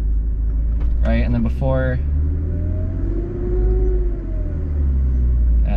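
BMW E36 with manual clutch pulling away from a stop, steady engine rumble with a rising pitch sweep as it takes off, under close conversation in the cabin.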